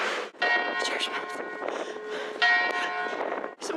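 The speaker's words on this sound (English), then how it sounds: "Church bells." Church bells ring out in Paris, a steady wash of overlapping metallic tones that carries on without pause, with faint voices and street bustle underneath.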